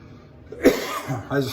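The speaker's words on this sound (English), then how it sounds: "still got a nagging cough that's driving me crazy" A single sharp cough bursts out, followed by a couple of softer throaty sounds, close and fairly quiet.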